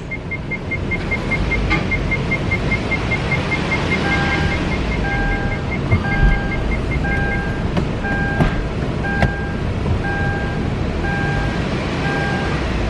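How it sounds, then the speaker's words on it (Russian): A car raised on a garage lift runs in reverse gear while a string of clear electronic beeps repeats at a regular pace over the steady engine drone. "Включаю заднюю и поехали."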